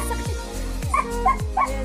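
Dog barks repeatedly in a home, several sharp yips and whimpering barks in quick succession, close and loud, with a voice in the background.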